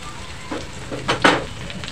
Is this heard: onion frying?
yes